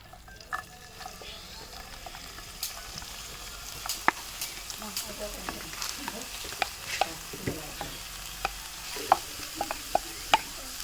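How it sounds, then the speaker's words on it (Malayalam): Onions sauté in a pan for a Kerala-style chicken snack, with a soft steady sizzle and frequent light clicks and scrapes of stirring, fairly quiet and without talk. "നല്ലപോലെ ഉള്ളി വാട്ടിയെടുക്കുക."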